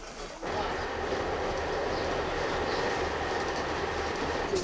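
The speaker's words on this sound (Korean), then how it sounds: "기차는 지정 좌석이 없는 완행열차다." A slow passenger train with unreserved seating runs steadily through the narrow Hexi Corridor from Zhangye station, a continuous close rumble of wheels and carriage noise that fills the whole stretch.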